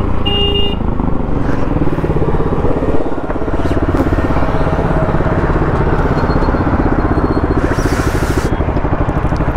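A KTM Duke 200 and a KTM 250 Adventure motorcycle drag racing side by side on a highway, their engines droning loud and constant at high revs. A brief horn toot comes near the start.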